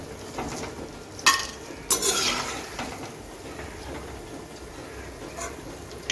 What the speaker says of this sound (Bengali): এইভাবে আমি সবগুলো ভেজে নিচ্ছি দেখুন আমি প্রথমে হাই ফ্লেমে তিরিশ সেকেন্ডের মতো ভেজে নিচ্ছি